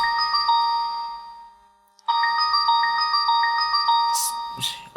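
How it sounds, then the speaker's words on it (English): A bright electronic ringtone melody plays in two repeating bursts separated by a brief pause, loud and close, ending with a couple of soft clicks. "the phone's ringing"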